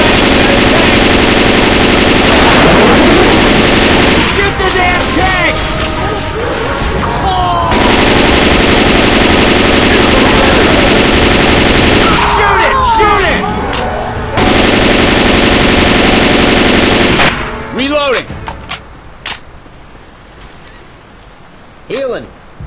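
Continuous loud automatic gunfire fires at the Tank in Left 4 Dead 2, arriving in long sustained bursts separated by short pauses, with voices shouting between the volleys before it tapers off.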